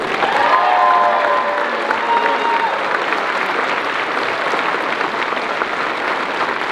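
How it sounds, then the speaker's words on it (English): Sustained loud applause from a large crowd at a Texas governor candidate forum, steady clapping throughout with a few faint cheers mixed in near the start. "How about a round of applause for our moderator, Kathy Ward?"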